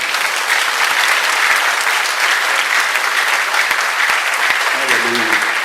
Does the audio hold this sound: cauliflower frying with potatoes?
no